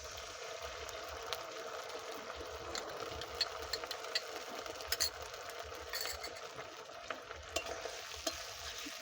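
Chilli chicken with tomato, red chilli and soy sauces stirred in a pan, a steady moderate sizzle with repeated ticking scrapes of a spatula, close and continuous without talk.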